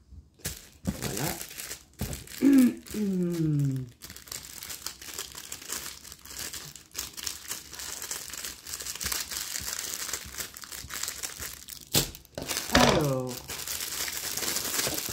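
Plastic wrapping crinkles and tears as accessories from a Temu diamond painting case are unpacked, with bursts of crackling between stretches of quieter handling and a voice speaking over parts of it.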